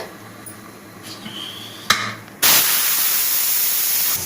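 A pressure cooker whistling on the stove while green gram rice cooks: a few faint clicks lead into a sudden loud, steady hiss of escaping steam that holds for about two seconds, close by.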